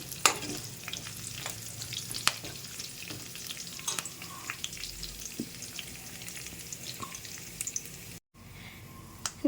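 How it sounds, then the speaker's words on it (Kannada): Curry leaves frying in hot oil with cumin and mustard seeds for a potato rice dish, a continuous crackling sizzle with frequent sharp pops and spatters, briefly cutting out near the end. "ಅದಕ್ಕೆ ಕರಿಬೇವು ಆ್ಯಡ್ ಮಾಡಿಕೊಂಡು ಅದು ಫ್ರೈ ಆಗಲಿ ಚೆನ್ನಾಗಿ"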